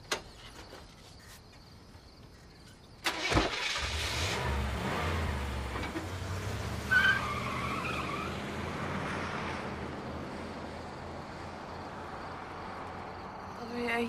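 A truck engine cranks and catches with a sudden burst, then settles into a rough, rumbling idle that runs steadily at moderate loudness, with a brief louder rev partway through.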